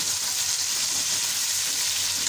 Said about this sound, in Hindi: अभी तकरीबन मुझे 5 से 10 मिनट हो चुके हैं गोश्त को भूनने।